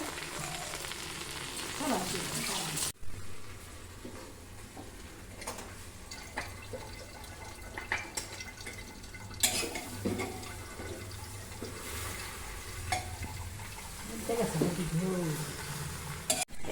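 Water is poured into a pan of taro leaf sour curry as it cooks, with a gushing pour and splashing over a background of sizzling and stirring, and a voice speaks briefly.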